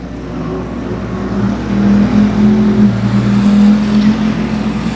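Race cars roar around a speedway as a pack runs single file, a steady loud engine drone with rising and falling revs lasting throughout, no talk over it.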